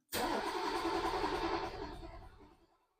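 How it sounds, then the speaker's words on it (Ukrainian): A car engine cold-starts abruptly with a loud cranking burst and catch, then settles into a rough, fading run over about three seconds, close and alone. "Абсолютно холодний пуск."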